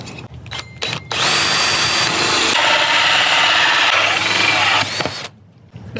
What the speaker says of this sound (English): We're drilling holes for the puck lights.